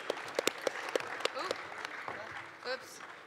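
Audience applause at the EVE Online Fanfest 2009 PVP tournament, a crowd clapping steadily with sharp individual claps standing out near the start before thinning into a softer patter, with a voice speaking over it.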